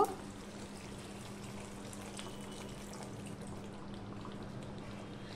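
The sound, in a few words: pouring water into pumpkin and potato curry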